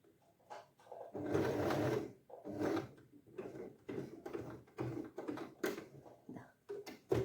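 A sewing machine stitching a silk skirt runs in short, uneven close bursts separated by brief pauses and small handling knocks as the fabric is folded and fed.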